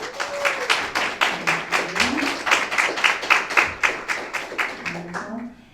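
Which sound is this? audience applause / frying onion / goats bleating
audience applause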